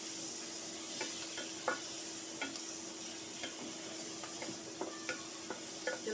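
Ingredients fry quietly in a pan while pork and moong dal curry is cooked, with a soft continuous sizzle and regular light scrapes and taps of a spatula stirring; no talking.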